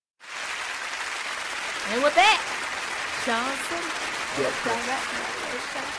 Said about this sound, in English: them hand claps make a difference